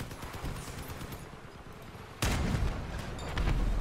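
A big gun mounted on a heavy vehicle in the combat game Crossout fires a deep, booming shot, with a sudden loud blast midway that rolls into a long rumbling tail over ongoing gunfire and explosions.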